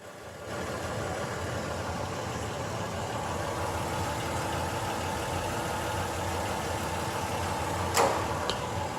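A 2017 Toyota Tacoma TRD Sport engine idles steadily, a low, even hum with a faint mechanical rattle, close and constant, with a small clunk near the end.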